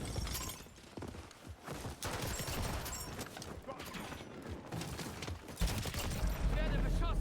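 Heavy gunfire in Call of Duty Modern Warfare, sustained crackling volleys and impacts filling the scene with loud, dense, continuous chaos and a deep thump near the end.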